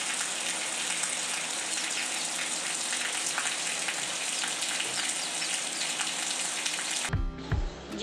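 A vegetable dish sizzles and fries in a pan in a home kitchen, a loud, dense, continuous hiss that holds steady before cutting off abruptly near the end, followed by brief low rumbling.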